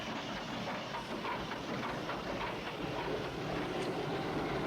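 A train runs on rails in the film Horror Express, a dense, continuous rumble and rattle that holds steady throughout.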